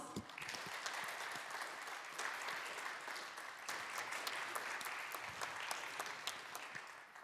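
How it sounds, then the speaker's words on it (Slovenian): Sustained audience applause fills a hall at a Slovenian woodworking industry award ceremony, steady dense clapping from a large crowd at moderate distance, with no talk over it. "En velik aplavz."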